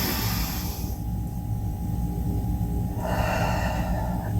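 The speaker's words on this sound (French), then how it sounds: "On prend une grande respiration." During a guided relaxation breathing exercise, a long audible breath is drawn in and released, airy and close, over a steady low background hum.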